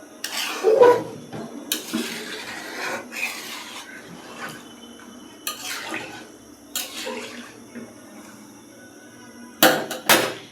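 Water is poured into a pot of chicken curry, a splashing wash broken by several loud metallic clanks and scrapes of utensils against the pot, with quieter gaps between.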